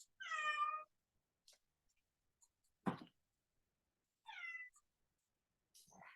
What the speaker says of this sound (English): I don't know if you guys can hear that cat or not